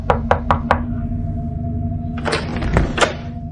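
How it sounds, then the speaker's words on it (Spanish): Knuckles rap on an apartment door, four quick sharp knocks followed after a pause by a second, slightly softer cluster of knocks, close and clear with no voices. "antes de irme llamé a la puerta de Ana."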